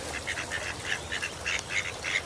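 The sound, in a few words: ducks quacking at a park pond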